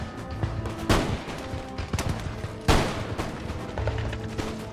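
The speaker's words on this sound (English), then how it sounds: "The first British volley hit nothing but thick wood." Musket volleys ring out in a Total War battle set in 1758, with British and French lines firing at close range in a wooded clearing: two loud, crackling massed bursts stand out against ongoing scattered shots and battle din.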